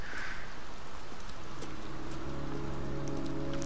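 Steady, dense rain hiss fills the scene in the video game Heavy Rain, a constant wash of falling water with faint droplet ticks and a low hum underneath, moderately quiet and without talk.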